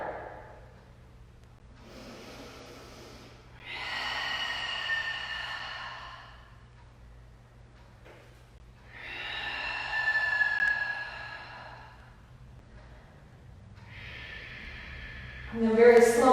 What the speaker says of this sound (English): Find 3 intentional rounds of breath here.